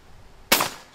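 A single shotgun blast at an outdoor trapshooting range in rural southern Kansas, a sharp loud report with a brief decaying tail, alone and fairly close.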